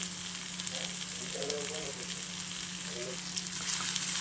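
Tomato, curry leaves and turmeric fry in a pan, giving a continuous close hiss and sizzle, with a faint voice murmuring briefly in the background.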